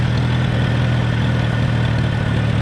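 An old Farman Super FC tractor's petrol engine idles close by with a steady, even mechanical hum and no voices.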